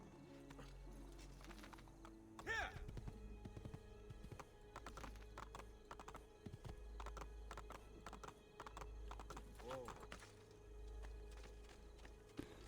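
Horse in Assassin's Creed 2 trotting with repeated clip-clop hoofbeats and a couple of whinnies, set over a low game ambience and quiet background sounds.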